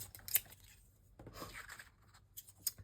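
Paper pieces being cut out with scissors, a few short crisp snips and rustles in quick bursts separated by quiet gaps, close and faint, with no talk.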